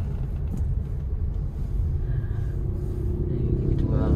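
Suzuki Ertiga engine accelerating in second gear while creeping through slow traffic, a steady low rumble heard from inside the cabin that rises slightly toward the end.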